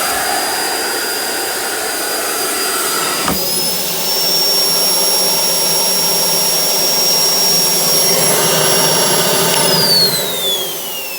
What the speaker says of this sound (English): switch on the vacuum pump